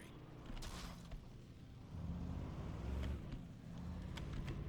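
A car driving in the Alan Wake video game, with a quiet, steady engine hum and some mechanical creaks that rise slightly partway through, heard alone with no talking.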